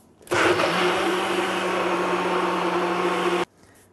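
An electric juicer whirs loudly at a steady pitch for about three seconds, starting and stopping abruptly, close up with no talking.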